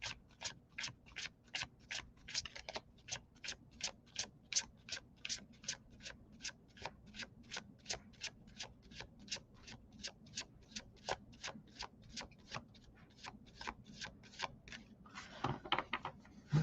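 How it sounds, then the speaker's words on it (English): Tarot cards being shuffled make a long run of quiet, evenly spaced crisp taps, about three per second, close by with no talking. "let's give it a shuffle"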